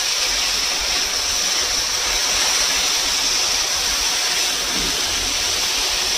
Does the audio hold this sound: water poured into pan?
yes